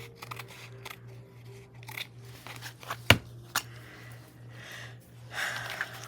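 Scissors snipping through fabric washi tape, a single crisp cut standing out above a quiet room hum, followed by a softer second snip and light handling rustle.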